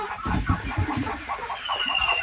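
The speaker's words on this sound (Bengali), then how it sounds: "এই যে 11টা হাঁস" A flock of eleven farm ducks, three drakes and eight hens, gives soft repeated clucking quacks close by, a brief busy chatter with no talk.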